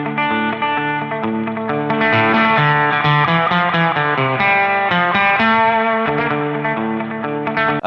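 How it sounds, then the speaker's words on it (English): Electric guitar chords ring out through a spring reverb tank, with a washy, echoing tail and a slightly distorted, shimmering tone. "it actually has a reverb tank that you attach to it that creates the reverb sound"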